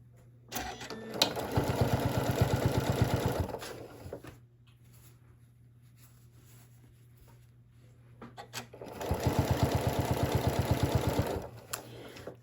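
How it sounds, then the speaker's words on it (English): A sewing machine stitches binding onto fabric in two bursts of rapid, even whirring clatter, separated by a quiet pause with a low hum. "we're gonna sew 1/4 inch all the way down, putting our binding on"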